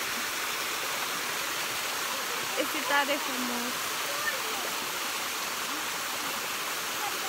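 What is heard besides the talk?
Beusnita waterfall rushing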